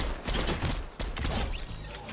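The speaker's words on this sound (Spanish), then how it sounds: "Como decía, tenemos que disparar la cabeza." Gunfire rings out in a shooter video game, a burst of several loud, overlapping shots close together, with mechanical clatter in between.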